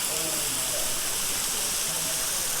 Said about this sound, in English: so here's the Cove Falls from a look on the bottom here